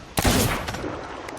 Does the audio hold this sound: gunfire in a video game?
yes